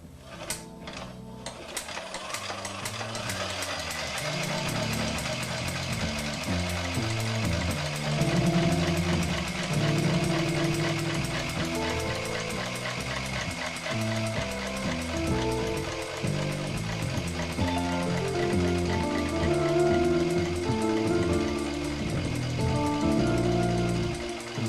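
A Hague linker knitting machine being turned by hand, giving a steady, continuous mechanical whirring with dense clicking texture that runs without pause at an even loudness, no voices.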